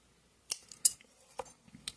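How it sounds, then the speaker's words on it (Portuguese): Scissors snip the yarn of an amigurumi Sid keychain from Ice Age in a few quick, crisp close cuts, with light clicks of the blades between them in an otherwise quiet room. "Posso cortar o meu fio."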